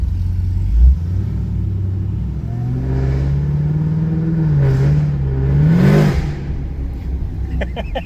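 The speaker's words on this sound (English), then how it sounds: "it is fun to drive a straight piped V8" A straight-piped V8 in a Chevrolet Caprice PPV rumbles deeply at close range, rising through a few throttle blips and revs before settling back to a rough idle.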